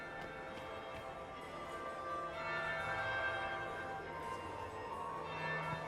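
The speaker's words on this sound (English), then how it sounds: "That would be the second bell." Bell tolling in the fantasy video game Dragon Age Inquisition, faint sustained ringing tones hanging over a steady murmuring ambience of a crowded hall, distant and low in level, with no talking.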